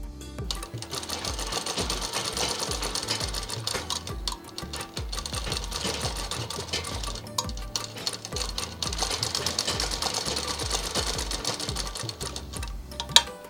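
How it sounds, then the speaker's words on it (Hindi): A sewing machine runs steadily at close range, stitching a double-folded half-inch turn around the round neckline of an umbrella frock in one long, continuous rattling run. "राउंड शेप में सिलाई करेंगे।"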